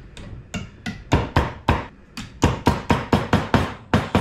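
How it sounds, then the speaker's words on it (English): A hammer bangs a bent piece of wire straight on a workbench while making fishing sinkers, sharp loud strikes in irregular bursts, then a faster regular run of blows near the end. "put it on my bench, get my hammer,"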